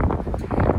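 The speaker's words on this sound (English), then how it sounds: "It is a little windy out here today, so pardon the wind." Rough, low rumbling buffets of wind hitting the microphone outdoors, continuous and close, with no clear talking.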